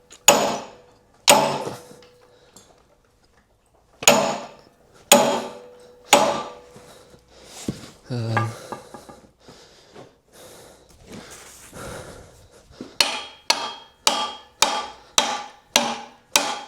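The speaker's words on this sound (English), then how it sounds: "all that's left is to hammer this pin the rest of the way" A sledgehammer striking a tight steel pin in a 1000 kg boom, sharp metallic blows at uneven intervals, then a quicker run of about nine regular strikes near the end, close and loud with quiet gaps between.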